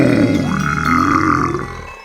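A single long, loud, deep burp rolling on for about two seconds before fading out, heard alone and close up.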